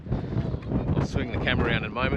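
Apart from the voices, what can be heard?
wind blowing at a pontoon swimming area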